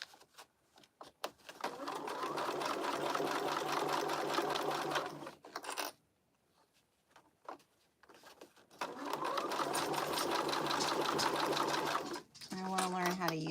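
A sewing machine stitches a crossbody bag in two long, steady runs separated by a pause, loud and close, with a voice talking briefly around the stitching.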